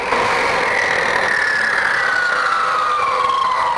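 A saw cuts through 2-inch PVC pipe with a loud, steady mechanical whine that slowly sinks in pitch over a few seconds. No one speaks.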